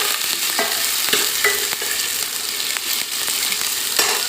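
Chopped potatoes sizzle in hot oil with garlic and cumin, a dense, steady crackle close to the pan, with scattered sharper pops and stirring scrapes and no voices.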